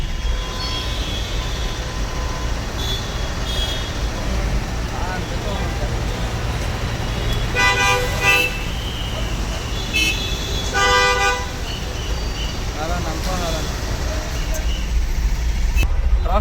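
Car horns honk repeatedly in a stalled Bangalore traffic jam near Majestic, heard from inside a Tata Ace cargo vehicle, with two clear horn blasts over a constant engine and traffic rumble while a person talks.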